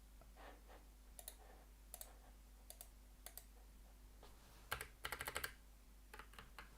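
Keystrokes on a computer keyboard come in short clusters of clicks with pauses between bursts, close by and fairly quiet over a steady low hum.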